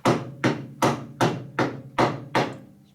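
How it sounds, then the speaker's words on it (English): A lead dead-blow hammer knocks a part flat during a 1942 Harley WLA 45 flathead stroker engine build, seven evenly spaced heavy thuds, close and fairly loud, with no talk. "Use a lead hammer to just knock it in flat."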